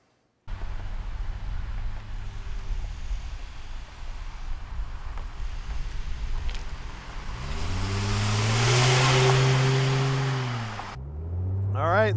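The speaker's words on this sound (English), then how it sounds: "let's take this Prowler for a ride" A 1999 Plymouth Prowler drives along with a steady, close engine hum and road roar, then the engine revs up and climbs through gears before easing off and picking up again.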